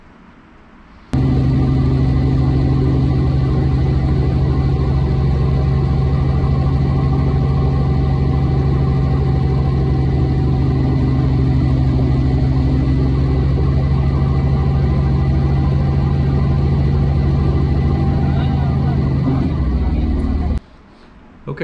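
A Robinson R44 helicopter engine with a magneto fault runs as a loud, continuous droning hum with strong low tones, starting abruptly and cutting off just before the end.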